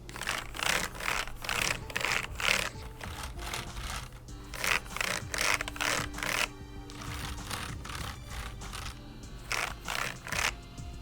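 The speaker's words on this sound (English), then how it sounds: "One thing I do want to point out though is the key chatter." Computer keyboard keys chattering and rattling, several rapid bursts of loose clacking repeated in quick clusters with short pauses between, close and fairly loud with no talking.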